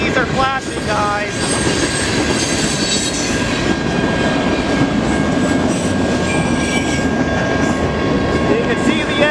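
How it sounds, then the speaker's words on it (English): Close, steady roar and clatter of a Canadian National freight train's cars rolling through a railroad crossing, with wheel squeal and a ringing crossing bell running throughout. "Here comes a Canadian National train."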